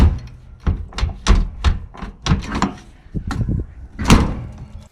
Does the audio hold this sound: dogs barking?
no